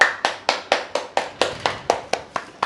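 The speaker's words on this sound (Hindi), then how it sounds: "इसमें क्या ताली बज रही है भाई" A dozen sharp single hand claps, close and evenly spaced in a quick steady rhythm, at home during the unboxing of a new table.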